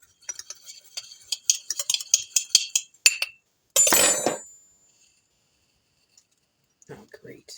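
A utensil clinks and scrapes against a bowl while breaking up clumped coconut sugar, with a quick series of sharp taps, one longer gritty crunch, then near silence, and a voice speaks briefly.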